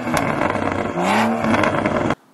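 A BMW fitted with a Performance Power Kit exhaust revs hard, its loud engine note rising and falling with sharp crackles and pops, then cutting off abruptly into near silence.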